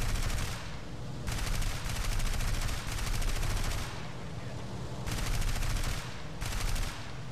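Sustained bursts of machine-gun fire from the player's own aircraft in War Thunder over Peleliu Island, several long rattling volleys separated by brief pauses, loud and close, with no talking.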